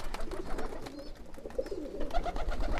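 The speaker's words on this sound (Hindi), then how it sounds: "ये भी कलसरा कबूतर" Kalsara pigeons coo in soft, repeated low murmurs, several birds overlapping close by against a steady rustling background.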